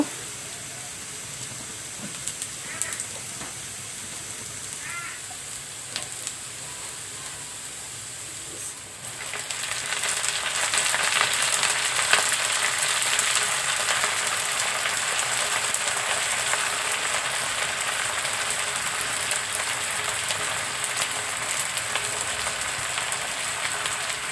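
Jute leaves hit a hot pan. After a low, quiet hiss, a loud, steady sizzle jumps up and keeps going, close and unbroken, with no voices.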